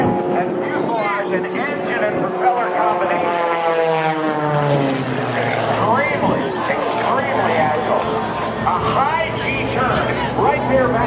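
An aerobatic aircraft at an air show over a shoreline roars past, its pitch sliding downward as it goes by, with someone talking over the noise throughout.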